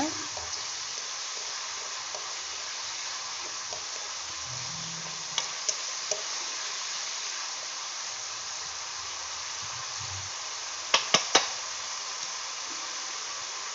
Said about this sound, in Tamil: தக்காளி சின்ன சின்னதாக கட் பண்ணியிருக்கேன். நல்லா வதக்கிக்கோங்க.